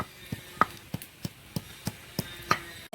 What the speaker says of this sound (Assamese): আদা নহৰু পিচিছোঁ।